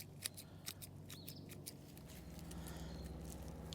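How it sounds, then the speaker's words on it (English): Scissors trim roots off elephant ear bulbs with a few sharp, close snips early on, followed by soft rustling and a low steady background murmur. "get all these roots trimmed off."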